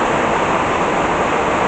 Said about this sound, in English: all the water running down off the roof here